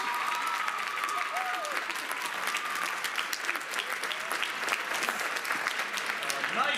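A pageant audience applauds a finalist with dense, sustained clapping, moderately loud and steady throughout, and faint voices mixed in with the applause.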